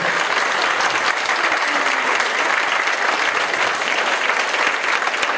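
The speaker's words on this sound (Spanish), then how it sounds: "Den un aplauso a Dios, mi hermano." A church congregation breaks into steady, dense applause that fills the space evenly throughout, loud and sustained with no voices standing out above it.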